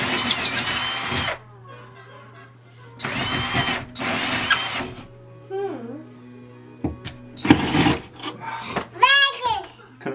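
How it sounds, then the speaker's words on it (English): A cheap power drill putting up shelves whirs in three loud bursts of about a second each, close by, then gives way to a child's chatter and other household noise. "so I had to use my shitty drill"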